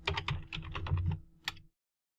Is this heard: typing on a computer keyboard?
yes